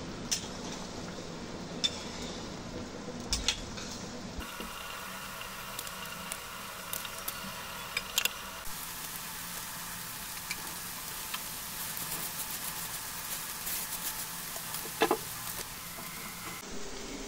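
Tengra fish curry simmering in a pot, a quiet bubbling patter with soft irregular ticks and pops, close but faint, continuing steadily with a few louder clicks along the way.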